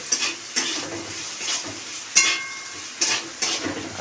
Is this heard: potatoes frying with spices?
yes